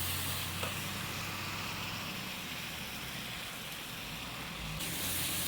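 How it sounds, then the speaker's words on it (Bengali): Pork frying in a pan after ginger, cumin, garlic and chilli are added, giving a steady, close hiss of sizzling oil that runs without a break through the whole stretch, with no talk over it. "এবার আমি মশলাটা দিয়ে দিচ্ছি আদা জিরে রসুন আর লঙ্কা দিয়ে দিয়ে ভালো করে কষিয়ে নেবো মাংসটা"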